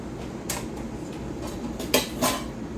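A spoon stirs lentils and boiling water in a pot on the stove, scraping and clinking against the pot in a few soft, close strokes, with two louder knocks near the end, over a steady background hiss.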